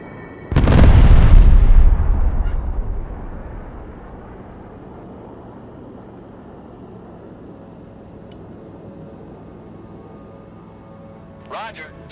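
An airstrike in the Broken Arrow video game lands with one huge booming blast that rolls and decays over several seconds, leaving a low rumbling tail and a faint later crackle.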